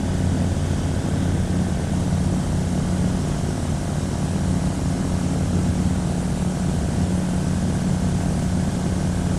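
A microlight aircraft's engine drones steadily in flight near Hammerfest on a trip to North Cape, a loud, constant hum with a low throb heard from inside the craft, with no talking.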